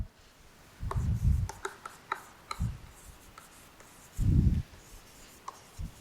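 Pen writing on paper while working a matrix determinant, with short scratchy strokes in irregular bursts and pauses, close and fairly clear, with no talking.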